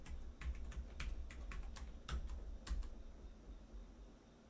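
Someone types an administrator password on a computer keyboard in a quiet room, a quick irregular run of close, crisp key clicks with short pauses and no talk.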